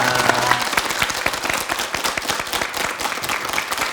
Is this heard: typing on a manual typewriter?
no